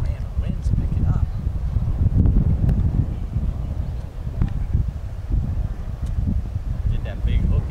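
Gusty wind buffets the microphone on an outdoor golf course, a loud, continuous low rumble with rustling, while faint voices are heard under it.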